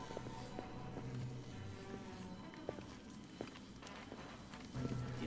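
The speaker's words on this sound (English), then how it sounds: "Footsteps, maybe." Footsteps in the stealth game Splinter Cell Chaos Theory, a run of soft, irregular steps faintly heard over a busy ambient background hum with occasional low tones.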